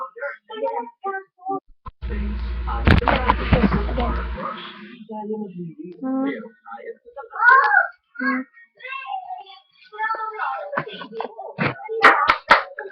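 Rhythmic hand claps and finger snaps sound close by alongside a voice chanting a beat-box pattern that imitates the same rhythm, with a brief noisy burst early on and sharper snaps near the end.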